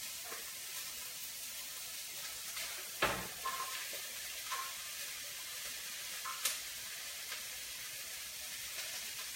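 Onions with a pinch of salt, sautéing with celery in a pan for posole, give a faint steady sizzle with a few soft clinks and stirring knocks on top, no talking.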